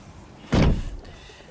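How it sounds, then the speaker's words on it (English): An Aston Martin Rapide's upward-opening swan door swings shut with a single solid thud, close and fairly loud, followed by a brief quiet settle inside the car. "So let me go ahead and close the door."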